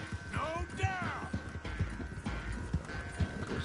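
A horse gallops in Red Dead Redemption 2, its rapid hoofbeats thudding in a steady rhythm close by, with a whinny early on and someone talking over it.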